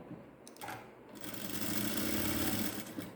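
A sewing machine stitches a seam on a ladies' straight pant, starting with short bursts and then running in a steady, close, rapid whirring drone to the end.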